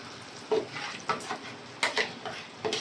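Spiced potato pieces slide slowly into a pan holding rohu fish head for an aloo dal curry, giving soft stirring scrapes and clattering bumps with a faint sizzle, arriving in a few separate bursts close by.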